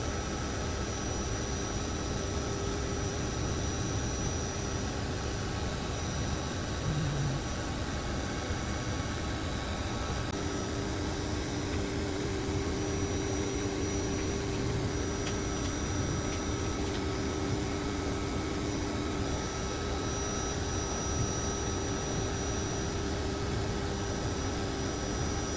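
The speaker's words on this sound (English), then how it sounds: "Let's load the wood for the first layer and start the cut. Here's a machine working at 3x speed." An xTool M1 Ultra laser engraver cuts wood with the footage sped up threefold, producing a constant broadband airy whoosh of fan and air assist, steady and unbroken throughout, with no speech.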